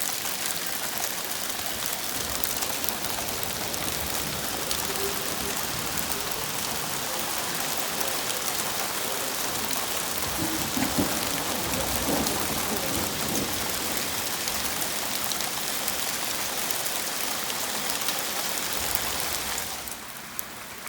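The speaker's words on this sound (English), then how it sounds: "it's hailing" Hail falls steadily during a storm in Pinetop, a dense even hiss and patter of pellets on surfaces lasting throughout, with no talking.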